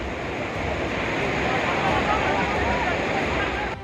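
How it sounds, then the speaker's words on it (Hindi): Loud, continuous roar of floodwater rushing through a drain channel during heavy monsoon rain in the Himalayan region, a dense steady wash close by with a faint voice underneath. "पानी के इस शोर को सुनकर आप समझ सकते हैं कि कैसे नाले का ये पानी खतरनाक"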